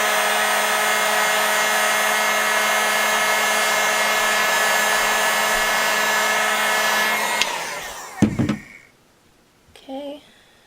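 A heat gun blows steadily and loudly for about seven seconds while warming Thibra thermoplastic for a cosplay piece, then cuts off, leaving a few brief handling knocks and a short voice.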